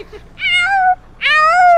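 A cat meows twice, close and clear, each call a drawn-out, rising-then-falling wail with a short pause between them.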